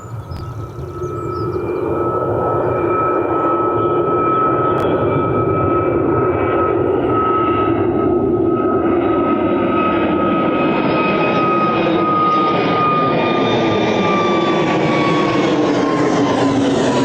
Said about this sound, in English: And then Yankee Alpha taxiing onto the lineup behind, going to Ibiza.